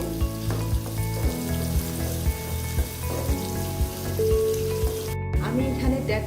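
Sliced onion fries and sizzles with spices in a pan, giving a steady, close sizzle while a rhythmic tapping and stirring runs under it.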